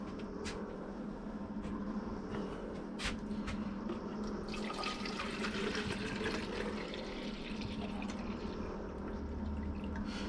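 Water pours from a jug in a workshop into a container, a steady, close splashing and trickling stream with a few drips and knocks.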